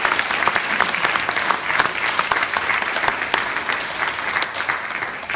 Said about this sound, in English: So let's give a round of applause for our children.